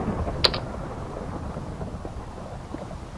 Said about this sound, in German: Oh, es donnert draußen.